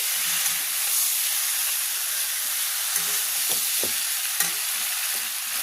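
Spice paste for a rohu fish curry sautés in a pan, a steady hiss and sizzle broken by a few soft scrapes and stirring knocks, with no voices.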